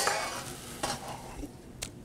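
Dry, baked cornbread is stirred in a bowl, giving soft scraping and rustling strokes with a few sharper taps. Close and quiet, no voices.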